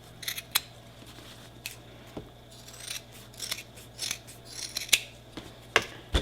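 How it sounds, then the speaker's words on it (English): Scissors cut a visor bill shape out along a drawn line, giving a series of close, crisp snips and short rasping slices at an uneven pace in an otherwise quiet room. "Now I simply cut it out. Right on the line."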